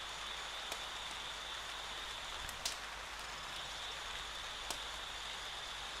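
Steady light rain in the video game Yonder, a soft even hiss with no talk and only a couple of faint ticks on top.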